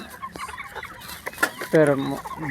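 Free-range village chickens kept for eggs cluck and squawk nearby in scattered bursts, with one louder, drawn-out hen call near the end.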